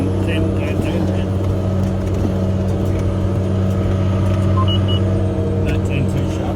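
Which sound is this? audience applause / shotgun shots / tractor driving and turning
tractor driving and turning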